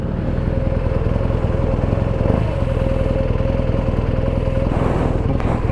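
A 2018 BMW R nineT Cafe Racer boxer twin idles close by with a steady, lumpy, throbbing beat and a faint mechanical clatter, running alone with no voices.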